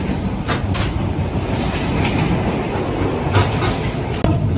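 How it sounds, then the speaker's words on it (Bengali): A passenger train crosses the Padma Bridge with a loud, steady rolling rumble and rhythmic clickety-clack of wheels, heard from inside the carriage, with a sharp knock near the end. "ট্রেন চলছে ট্রেনের গতিতে, দেখতে দেখতে আমরা চলে আসলাম পদ্মা সেতুর উপর।"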